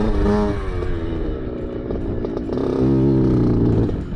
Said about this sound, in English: I didn't think that the bike was sounding very healthy at all.